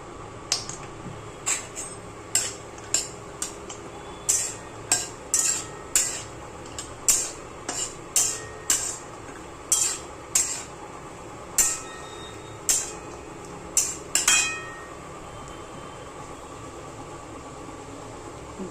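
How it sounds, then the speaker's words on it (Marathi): A spatula clinks against a pan while cashews are stirred and roasted, giving sharp, irregular scraping taps every second or so over a faint steady hiss, with no voices. "आणि आता हे काजू भाजून घेते."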